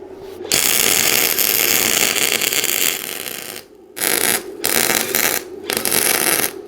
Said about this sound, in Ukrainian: Без зайвих слів, варю флюсом.